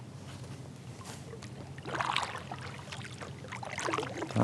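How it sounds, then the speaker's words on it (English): A kayak paddle dips and pulls through calm water along a shoreline, giving soft splashes and drips that come in gentle strokes at close range, with no voices. "I'm gonna paddle back up along the shoreline over there"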